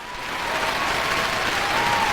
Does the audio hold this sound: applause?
yes